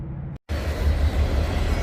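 A train rumbles past close by, a heavy low roar that cuts in after a brief moment of quiet and then holds steady and loud.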